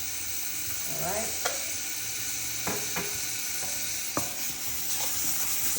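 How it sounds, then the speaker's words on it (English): Cajun rice dressing stirred in a pan over a low flame, a soft continuous sizzle broken by a few sharp scrapes and clacks of the spoon against the pan, close and alone. "So we're going to stir that on up"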